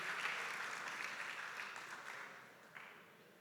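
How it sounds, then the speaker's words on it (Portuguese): A church congregation applauds, a broad wash of clapping that starts full and slowly fades over a few seconds, with a faint voice underneath. "Aplauda o seu marido, dá honra a ele aí em nome de Jesus."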